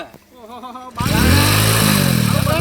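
A motorcycle engine turns over and catches about a second in, then idles with a loud, throbbing rumble; a voice is briefly heard before it starts.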